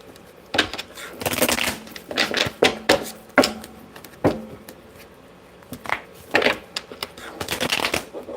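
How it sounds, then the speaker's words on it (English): Tarot cards are shuffled and drawn close by in short, crisp riffling bursts separated by pauses, with soft taps and slaps as cards are handled and laid down. "Let me pull one more card for you"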